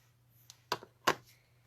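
Two crisp scissor snips, about a third of a second apart, cutting the ends of linen thread on a handmade paper envelope, close and fairly quiet over a low steady hum.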